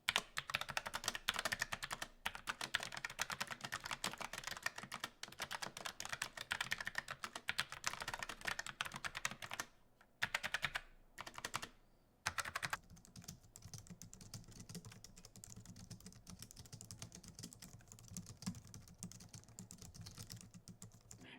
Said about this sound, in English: this one is very audibly louder than the MX keys